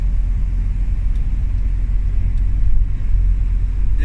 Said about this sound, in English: Yes, a very heavy traffic as we get closer to the port.